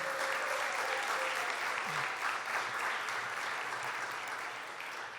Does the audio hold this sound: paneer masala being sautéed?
no